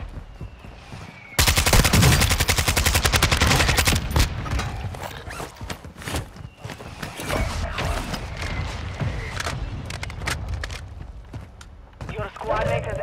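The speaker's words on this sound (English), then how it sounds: "Requesting mortar strike. Solid shot. Mortar strike on the way." Call of Duty Warzone combat: a loud, close roaring blast of mortar impact followed by rattling bursts of gunfire and distant booms, with voices speaking over the din.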